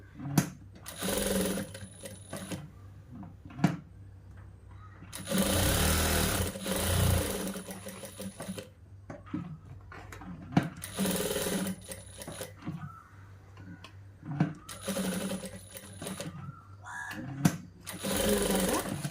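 Sewing machine stitching a boys' school uniform shirt, running in several bursts of a few seconds each with quiet gaps of handling between them.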